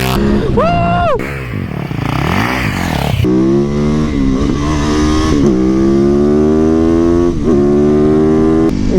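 A street motorcycle has its throttle ripped open. Loud, close engine revs rise and fall in pitch, with steady harmonic drone and sharp sweeps as it pulls hard, continuous throughout.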